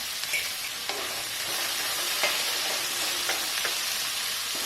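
Onions sautéing with a little salt in a pan while a Kerala-style chicken roast is cooked: a steady, fairly faint sizzle with occasional scraping stirs, and no talking.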